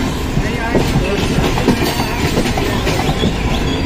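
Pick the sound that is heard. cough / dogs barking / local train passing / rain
local train passing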